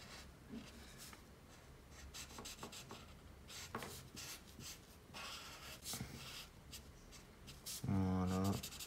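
A pastel green crayon rubs back and forth across paper in soft, steady scratchy strokes, with a person talking throughout.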